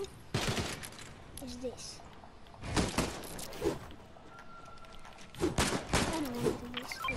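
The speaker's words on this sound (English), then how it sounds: "The primal shotgun." Primal shotgun blasts in Fortnite, several loud, separate booming shots spaced a second or two apart, with someone talking between and over them.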